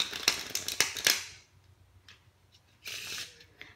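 A deck of playing cards is riffle shuffled in the air, a quick burst of crisp flutters and snaps close by, then a pause with faint rustles before a second shorter riffle.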